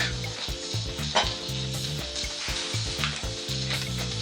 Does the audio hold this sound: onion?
yes